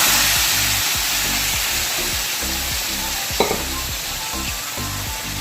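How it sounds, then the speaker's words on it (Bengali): Chicken and potatoes fried until red sizzle loudly in a pressure cooker while a spoon stirs and scrapes in repeated strokes, close up with a low steady hiss and no talk. "দেখতেই পাচ্ছেন মাংসটাকে কিন্তু আমি বেশ কিছুক্ষণ ধরে নাড়াচাড়া করছি।"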